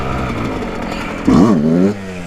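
A Yamaha YZ125 two-stroke dirt bike revs hard during wheelie practice. A loud, rising and falling engine note surges for about half a second, then falls back to a rough idle. It is close and there is no talking.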